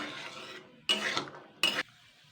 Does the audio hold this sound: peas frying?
yes